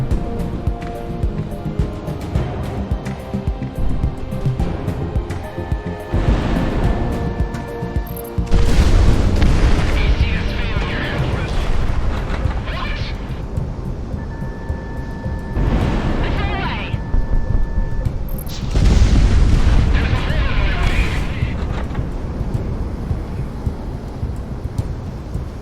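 Cannon fire and booming blasts from jet combat in the Project Wingman flight game, heavy rumbling bursts with two loud impacts over continuous engine roar and game music, with someone talking over it.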